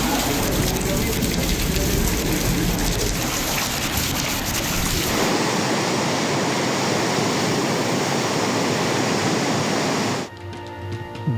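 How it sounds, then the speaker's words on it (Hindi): Heavy rain pours down in a storm across KP and Punjab, a loud, dense, unbroken hiss of water striking the ground and surfaces that cuts off abruptly near the end. "बारिश का एक और तूफानी स्पेल।"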